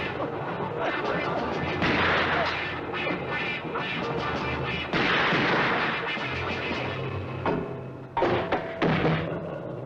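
Gunshots fired at a creature in the horror film Horror Express, heavy booming blasts and crashes in dense succession under a busy film soundtrack, with voices talking over them.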